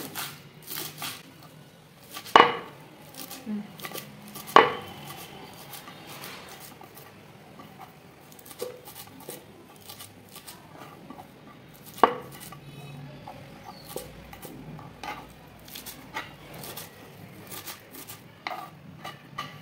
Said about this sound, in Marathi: सगळे पालक आपण बारीक चिरून घेऊया।